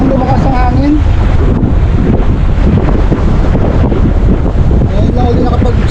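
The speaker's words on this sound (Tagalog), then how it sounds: "sana wag nang lumakas ang hangin" Loud, constant wind on the Manila breakwater buffets the microphone with a dense roar, while faint water and voice sounds are barely audible beneath it.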